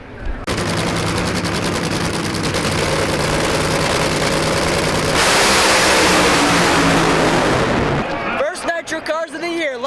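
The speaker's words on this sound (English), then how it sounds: "First nitro car of the year is headed up to the line." A nitro funny car at the NHRA Winternationals drag race roars at full throttle, a deafening crackling blast that swells for about eight seconds before cutting off, leaving scattered nearby voices.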